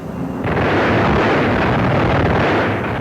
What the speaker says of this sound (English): There's a stream of lead from the guns, and he's got him.